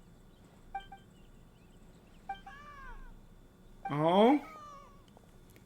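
Cat meowing in the video game Genshin Impact, a few short, soft mews followed by a louder drawn-out meow, with a brief spoken exclamation over the quiet game background.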